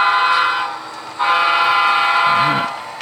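Train horn sounding in two loud, sustained blasts with a short gap between them, near and clear over low rail rumble.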